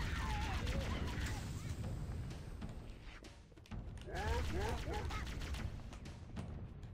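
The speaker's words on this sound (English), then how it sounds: "You hear the explosions?" Explosions in the video game Halo CE with a cursed mod, a rapid barrage of booms and gunfire-like blasts mixed with chaotic game sounds, loud and dense throughout with a brief lull midway.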